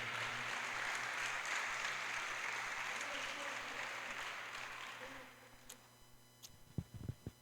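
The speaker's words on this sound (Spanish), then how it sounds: "Dale un fuerte aplauso al Rey de Reyes." A church congregation claps in strong, sustained applause heard at a distance, then it fades out near the end, leaving a few faint scattered sounds.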